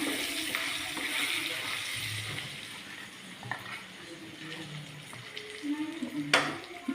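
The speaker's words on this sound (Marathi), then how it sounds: "फ्राय होते." Food sizzles steadily in a frying pan, a constant hiss of hot oil broken by a few faint clinks and stirring noises, close by and with no voices.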